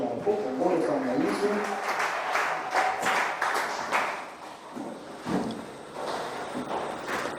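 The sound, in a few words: church congregation applauding for Jesus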